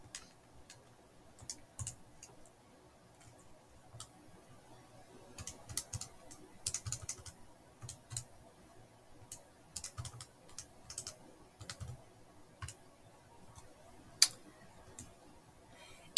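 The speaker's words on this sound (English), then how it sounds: "And I'm going to type all that in the calculator." Quiet, irregular plastic clicks of numbers being keyed into a calculator keypad, a few taps at a time with brief pauses between bursts, close and faint.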